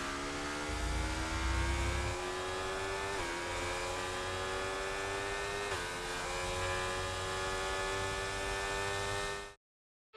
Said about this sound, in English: And here they come to the line.